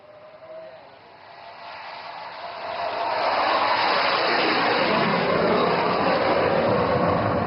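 An Indian Air Force aircraft overshoots a highway landing strip, its jet roar building from a distant rumble into a loud, sustained, broadband rush that holds to the end.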